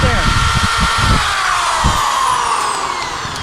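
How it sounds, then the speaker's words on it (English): An electric drill of roughly 300 watts runs continuously with a steady high whine and rumble, close and loud, with someone speaking over it. "So as I'm running this drill"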